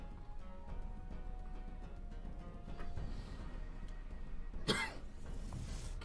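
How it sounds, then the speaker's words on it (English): A man coughing near a microphone during a card game session, a few muffled coughs and throat sounds with one sharper burst partway through, over faint background noise. "Can't stop coughing."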